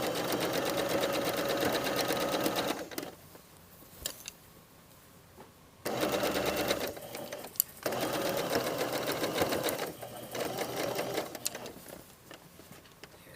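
A sewing machine stitches a jacket hem in steady runs, stopping briefly twice and then starting again, with faint ticking in the quiet gaps and no talking.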